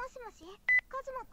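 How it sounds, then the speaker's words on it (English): A cell phone rings in the PacaPlus video game, a short bright electronic tone burst in the middle, set between stretches of synthesized chattering voices. "The abrupt ringing of my cell phone tears me away from my thoughts of laziness."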